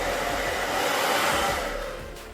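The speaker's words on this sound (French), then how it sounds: "je vais vous montrer la technique avec le sèche-cheveux." A hair dryer blowing steadily at close range, a loud continuous whoosh with a motor whine, easing off slightly at the end.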